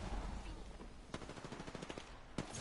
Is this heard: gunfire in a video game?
yes